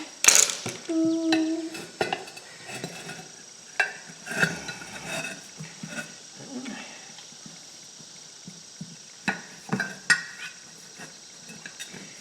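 Metal tire spoons clink and scrape while a tire with an inner tube is worked back onto its rim, giving irregular sharp taps and rattles, some close and loud, mixed with someone talking intermittently.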